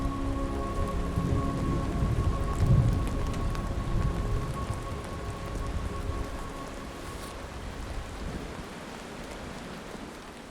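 Steady rain pours through a forest in Forillon National Park, Canada, a dense continuous patter with low rolling thunder underneath, no voices present.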